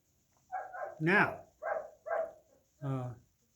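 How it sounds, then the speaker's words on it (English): A German Shepherd barks outdoors in four or five distinct woofs spaced about half a second apart, fairly close and clear against a quiet background. "Apologize for our German Shepherd out there barking"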